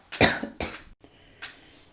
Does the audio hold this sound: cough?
yes